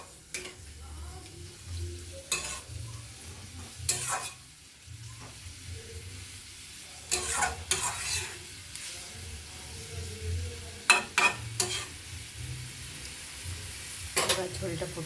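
Spice paste for potol posto fries in a pan over a raised gas flame after a splash of water. Bursts of hissing sizzle come and go with scraping stirs, and a quiet voice murmurs now and then.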